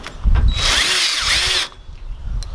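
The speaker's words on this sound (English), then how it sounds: "drill you two self-tappers down in there" A cordless power drill drives self-tapping screws into a metal trimmer rack, one steady high whine lasting over a second, then stopping abruptly, close and loud with no talk.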